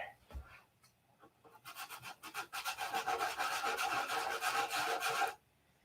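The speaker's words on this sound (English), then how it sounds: "I'm going to sand the whole canopy flat" Close, steady hand sanding of primer on a model canopy with 500 grit sandpaper builds into rapid rhythmic rubbing strokes for several seconds, then stops abruptly.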